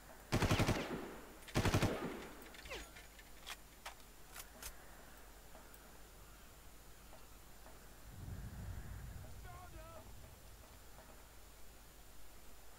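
Gunfire in the video game Far Cry: two sharp bursts near the start, then a few fainter scattered shots and distant rattling over a steady hiss.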